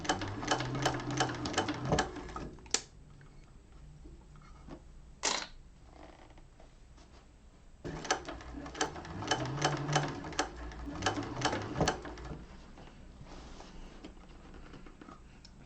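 A sewing machine stitches a hobo bag in bursts of rapid, even mechanical chatter, pausing between runs with a few clicks and a brief whir as the fabric is repositioned, close and clear with no talk.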